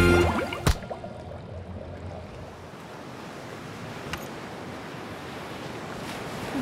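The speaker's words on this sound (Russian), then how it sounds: "Ты видел, какие там волны?" Steady roar of ocean surf washing in on the coast of Panama, broad and continuous, with a sharp knock near the start and wind rumbling underneath.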